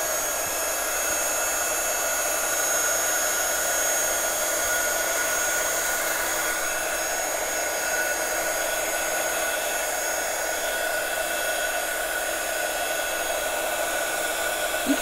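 A hair dryer blows over an ink-stamped craft background textured with bubble wrap, producing a loud, steady, close whooshing drone that continues unbroken for about fifteen seconds with no talking.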